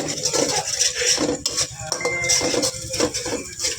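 Metal utensil scraping and clinking against a pan on a stove as food is stirred and turned, a busy, repeated clatter of cutlery on cookware close by with no talk.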